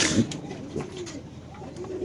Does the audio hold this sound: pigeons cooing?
yes